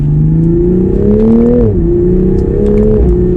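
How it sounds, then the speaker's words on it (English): A 2021 Toyota Supra pulls in second gear at half throttle, its engine note climbing steadily in a close, loud, smooth drone with a brief dip partway through. "We'll go to second gear, and we'll kind of give it like half throttle."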